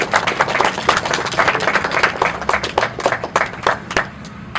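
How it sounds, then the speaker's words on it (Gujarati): Applause at a patriotic celebration event held in a village gym, a crowd clapping steadily and loudly throughout with dense, continuous hand claps and no talk over it. "તો આપણે સૌ એમને સાથે મળીને તાળીઓના ગણગણાટથી વધાવી લઈએ"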